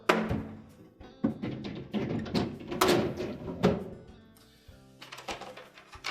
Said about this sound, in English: Replace the drawer.